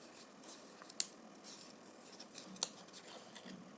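Scissors snip out a small paper shape for a tile, quiet close cuts with two crisp snips among faint rustling in a hushed room.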